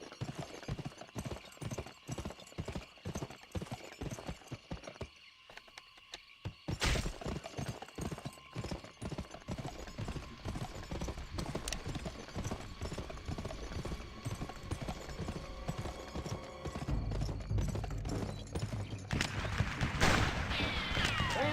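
Horse hooves clip-clop in the Western shooter game Fistful of Frags, a rapid, steady rhythm of hoofbeats with a brief pause partway through. Scattered gunfire and other game effects sound faintly behind the hoofbeats.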